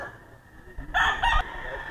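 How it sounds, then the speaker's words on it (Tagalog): A single short crow from a Bulik gamecock, loud and close, rises out of quiet background for about half a second. "Isa po sa mga manok ni Sir B-Boy Enriquez."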